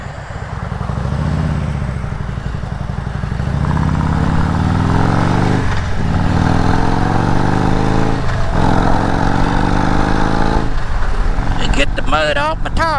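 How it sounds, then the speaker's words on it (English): A Harley Road Glide and a Lowrider ST pass by, their engine drone rising and falling as the bikes roll past nearby, mixed with steady road noise and talk inside a vehicle. "Ooh, look, a motorcycle friend."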